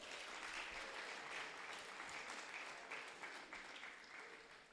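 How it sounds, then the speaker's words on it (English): A graduation audience applauds steadily, with dense clapping from a large crowd that fades slightly toward the end and no speech over it. "Please give yourselves a round of applause."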